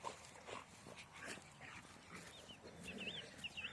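Dogs out on a walk through a paddock near alpacas whimper and yip faintly and intermittently from a short distance, with outdoor ambience and high bird chirps toward the end.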